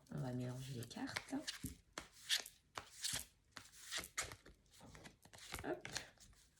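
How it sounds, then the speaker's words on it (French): Oracle cards being shuffled by hand during a love reading, a run of soft papery riffles and slides under a French-speaking voice talking throughout. "Alors, on va mélanger les cartes."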